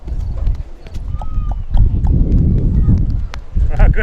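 A voice imitates a horse, first galloping and then trotting, with rhythmic vocal clip-clop sounds close by and fairly loud, mixed with scuffling movement.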